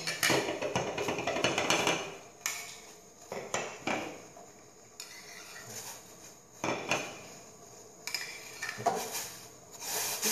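Dried spices and herbs for wedang uwuh tipped into a pot of boiling water, giving several clattering bursts of metal and wood knocks against the pot at irregular intervals, close and fairly loud, with no talking.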